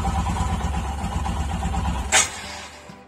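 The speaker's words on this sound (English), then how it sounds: "Maybe I'll let her idle for a little bit" Royal Enfield Himalayan motorcycle engine idling with a steady low throb, close and continuous, broken by a brief sharp hiss or click near the end.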